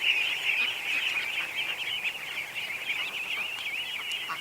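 Ducks and ducklings, with Muscovy ducks among the flock, call steadily at night in a dense chorus of high peeping and chattering that carries on unbroken throughout.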